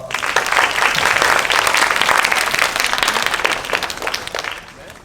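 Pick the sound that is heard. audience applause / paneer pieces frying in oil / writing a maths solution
audience applause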